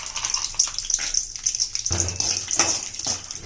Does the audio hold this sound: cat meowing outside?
no